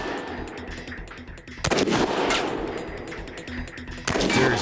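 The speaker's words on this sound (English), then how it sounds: "Jamie will have to shoot the Cadillac's gas tank." Gunfire aimed at the gas tank of a Cadillac during a Mythbusters test, with loud sharp shots and rapid bursts cracking close by over a steady outdoor roar, and no explosion following.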